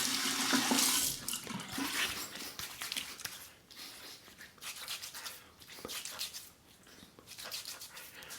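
Tap water runs into a sink while a face is rinsed during shaving with Barbasol, a continuous splashing wash with uneven surges and dips in level.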